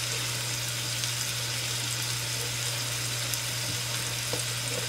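Kibbeh patties fry in a Gotham Steel granite stone stackable skillet, giving a continuous, even sizzle and hiss at moderate volume with a low steady hum beneath and no talking.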